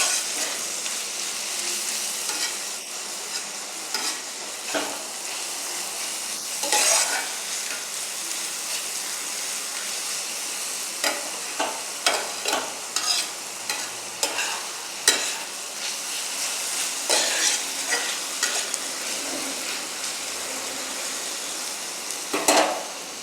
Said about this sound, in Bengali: দিয়ে ভালো করে নাড়াচাড়া করব,